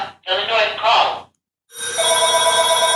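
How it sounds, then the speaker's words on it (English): A telephone rings with a steady electronic bell tone, loud and close, following a brief burst of speech and a pause. "The phone's ringing."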